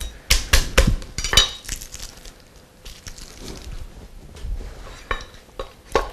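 Knife rough-chopping a garlic clove on a cutting board, a string of sharp, uneven taps and knocks, close and fairly loud, with pauses between bursts.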